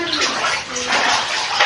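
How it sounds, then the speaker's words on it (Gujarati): Rainwater floods into a house in a steady, loud rushing and splashing stream that runs without a break. "આ જો સીધું અંદર પાણી જાય છે"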